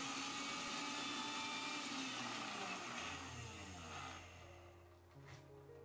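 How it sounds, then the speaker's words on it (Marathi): A mixer grinder grinding a spice paste whirs loudly and steadily for several seconds, then its pitch drops as it slows and winds down near the end. "पुन्हा एकदा मिक्सरचं झाकण लावायचंय, अगदी जरा वेळ फिरवून घ्यायचंय."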